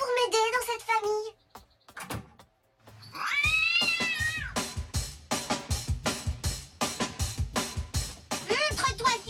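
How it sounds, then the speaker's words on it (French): A cat lets out a drawn-out, wavering meow, then a run of rapid, sharp caterwauling yowls, close and loud, with a voice speaking briefly at the start. "Un chat."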